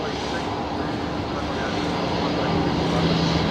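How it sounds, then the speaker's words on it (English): Embraer jet departing Brisbane Airport at night, a continuous moderate engine roar from some distance with a faint steady tone, talk audible beneath it. "I think this is an Embraer heading out now."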